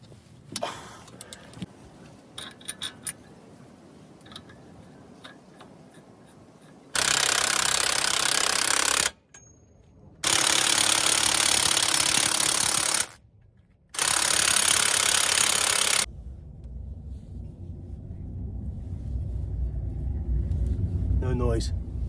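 Impact wrench or ratchet driving hub bolts on a 2010 Silverado during a wheel bearing replacement, three loud sustained bursts of a few seconds each separated by short pauses, with quieter shop clatter and rumble before and after.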